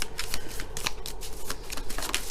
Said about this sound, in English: I'm doing a little on-camera shuffle today